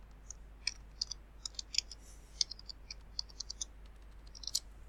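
Mouse clicks on a small pencil icon to edit text in a widget, a quick scatter of light, close clicks at uneven intervals over a quiet background.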